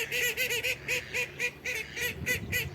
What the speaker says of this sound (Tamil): தண்ணியில் இறங்கிச்சிங்க பாருங்கள் வாத்து